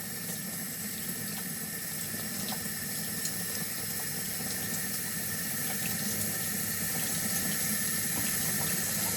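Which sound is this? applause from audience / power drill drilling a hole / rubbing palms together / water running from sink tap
water running from sink tap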